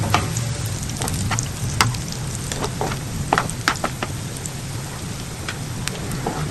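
Bitter gourd slices sizzle as they fry golden in a pan, giving a dense, even crackle with scattered sharper pops, close and steady with no talking.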